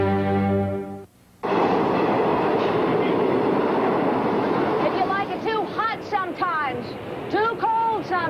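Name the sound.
train running on rails, clickety-clack in a TV commercial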